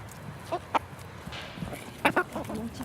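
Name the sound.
chickens clucking in a small coop of nine hens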